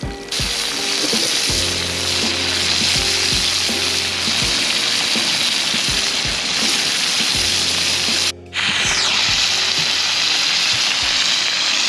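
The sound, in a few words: clams cooking and sizzling in a pan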